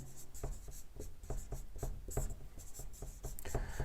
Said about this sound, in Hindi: एक और उदाहरण मैं यहां लिखती हूं।